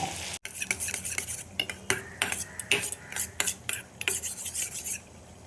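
A splash of water goes into a pan of potol (pointed gourd) with curd, followed by stirring and scraping of a utensil against the pan amid a soft sizzle. The sounds come close and in quick, uneven bursts.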